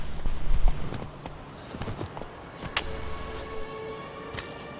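Roach, the horse in a video game, moves along with clip-clop hoofbeats at moderate loudness. A few sharper clicks come through over a quiet background, with no talk.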